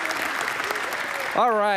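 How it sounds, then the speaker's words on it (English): Audience applause at a motivational speaker's event, a steady round of clapping that is cut off near the end when a voice begins speaking. "Everybody, big round of applause."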